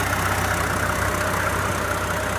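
A Mercedes W126 350SDL diesel engine idling up close, a steady, even clatter with a low rhythmic pulse, heard alone without talking.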